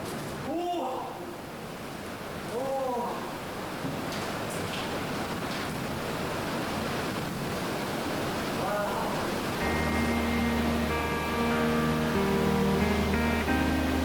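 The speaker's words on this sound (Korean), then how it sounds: "바로 밑에서 폭포를 바라보는 것이다." Niagara Falls in winter, heard from right below, a constant loud roar of crashing water with bird calls early on and music rising over it later.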